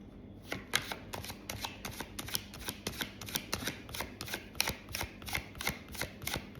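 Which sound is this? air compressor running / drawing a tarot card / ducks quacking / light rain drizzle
drawing a tarot card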